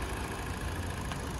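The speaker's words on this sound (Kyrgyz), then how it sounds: "Мотору жим жүрүп турат." A Samsung SM3 car engine idling, a faint, steady low hum running evenly throughout, with no voices.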